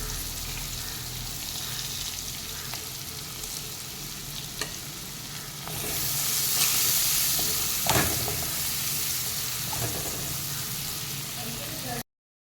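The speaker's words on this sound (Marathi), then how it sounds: "कांदा आणि लसणीच्या पाकळ्या आपल्याला छान परतून घ्यायच्या आहेत" Onion and garlic cloves sautéing in a pan for methi parathas give a steady close sizzle and crackle, swelling louder around halfway through with a few stirring clicks and scrapes.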